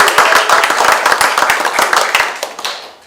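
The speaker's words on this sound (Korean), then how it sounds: "다시 한번 힘찬 격려의 박수 부탁드립니다." Enthusiastic applause from a crowd at an online opening ceremony for a National Assembly candidate's election campaign office in Gumi, Korea: dense, steady clapping throughout, fairly loud and close, with no talk over it.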